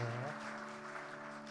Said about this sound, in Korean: 선물이 전달되면 박수도 함께 따라와야 되겠죠?